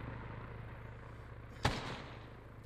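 A single sharp gunshot rings out in Arma 3, one short crack with a brief tail, moderately distant over a low steady background hum.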